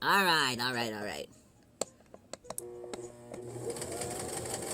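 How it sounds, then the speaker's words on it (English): A sewing machine stitching fabric runs in short bursts of rapid mechanical clatter, with a voice talking over the start and faint background sounds. "Now I'm sewing off the track."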